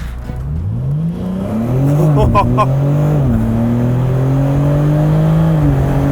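A 2022 BMW M4 Competition Convertible engine surges and climbs in pitch as it accelerates hard from 0 to 100 with the top down, with a quick gear change partway, loud and near.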